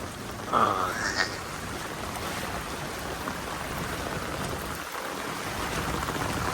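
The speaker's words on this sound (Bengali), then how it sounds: "দেখতে পাচ্ছেন বৃষ্টির অবস্থা পুরো বৃষ্টিতে ভিজে গেলাম" Heavy rain falls in Vrindavan during flooding, a dense continuous hiss of downpour on wet surfaces, loud and close, with a brief splashy burst near the start and no speech.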